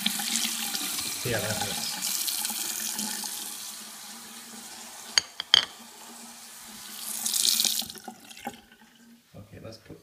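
A tap runs steadily as an object is rinsed off under the water after a gallium residue treatment, close and fairly loud, with a few sharp clinks and a person speaking briefly before the flow stops.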